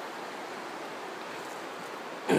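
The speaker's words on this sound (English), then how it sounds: "There's the river again." Steady broadband rush of a river flowing nearby at a woodland bottle dump, constant and even throughout, with a brief louder handling noise at the very end.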